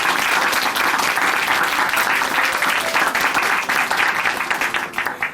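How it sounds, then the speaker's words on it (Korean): Sustained applause from a church congregation at Chuncheon Hanmaeum Church after a testimony, steady dense clapping filling the room at constant loudness and tapering slightly at the end, with no voices over it. "다시 한번 귀한 간증 들려주신 자매님께 큰 박수 보내드릴게요."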